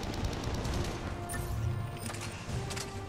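Mass Effect 3 combat brings bursts of rapid gunfire and sharp impact cracks over a dense, continuous rumble of game noise, loud and busy throughout the short stretch, with no voices.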